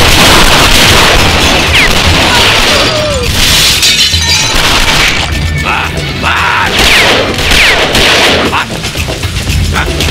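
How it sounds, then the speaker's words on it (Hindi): Gunfire in a Hindi-dubbed Telugu action film scene, loud and continuous with sharp cracks and shattering layered over a dense booming soundtrack, with no clear speech. "इतनी फायरिंग हो रही थी"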